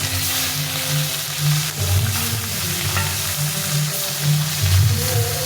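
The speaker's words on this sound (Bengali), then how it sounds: "মাছটাকে আমি ভালো করে ভেজে নেবো" Fish rubbed with salt and turmeric fries steadily in hot oil for a fish curry, giving a loud, continuous crackling sizzle with a few bubbling swells and no voices.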